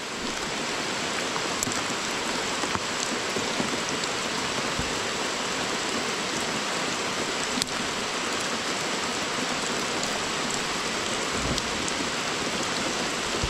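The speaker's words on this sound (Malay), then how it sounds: "Hujan lebat." Heavy rain pours down steadily in a dense, continuous hiss, with no voices.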